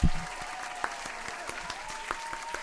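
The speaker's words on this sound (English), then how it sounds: "Can we put some claps in the chat for Angie, please?" A brief applause sound effect of many hands clapping, steady and moderately quiet, runs for a couple of seconds on its own after a short thump at the start.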